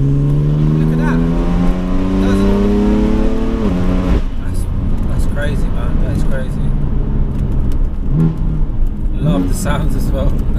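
A 560 bhp HCP-tuned BMW M4 convertible engine revs hard and climbs through a loud pull, then drops into a rumbling cruise with short throttle blips, heard up close with talk over the later part.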